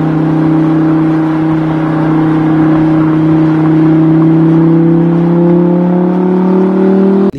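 A green Lamborghini supercar toy gives a steady, loud electronic engine rev, a continuous droning whine that climbs slightly in pitch before cutting off abruptly at the end, with no talk over it.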